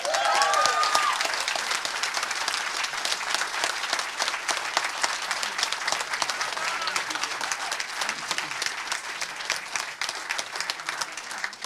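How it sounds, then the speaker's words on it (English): A crowd at a Cheshire town council meeting applauds steadily for over ten seconds, a dense, sustained wash of clapping that stays level throughout. "I would just ask the crowd to hold the applause"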